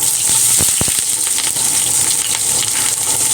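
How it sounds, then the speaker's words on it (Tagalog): Aromatics sautéing in a hot pan for beef pares, a loud continuous sizzle with a few clattering knocks of the spatula early on, close and steady. "Igisa na natin ang mga ricado."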